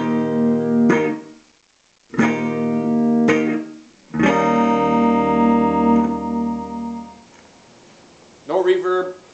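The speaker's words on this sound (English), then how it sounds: "Here's the straight guitar signal." Acoustic guitar through a clean, dry signal chain with no effects: a few single plucked notes and chords ring out, each sounding alone and decaying naturally into silence between strums.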